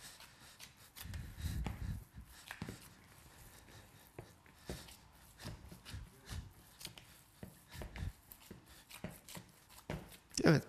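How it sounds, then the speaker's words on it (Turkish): Fresh parsley is chopped with a knife on a board in a home kitchen, producing a string of quiet, irregular taps and scrapes, some in quick bursts and others spaced apart. "biraz da maydanoz doğrayıp maydanozumuzu ilave ettikten sonra"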